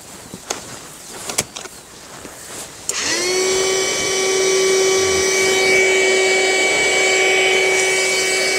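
A vacuum pump switches on abruptly and runs as a steady loud whine with strong tonal overtones, drawing the air out of a mattress; faint knocks and handling noises come before it starts.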